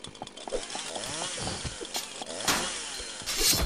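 A chainsaw wielded by a woman enemy in the samurai action game Dead Samurai snarls and revs continuously, surging louder near the end over game effects, with no talk.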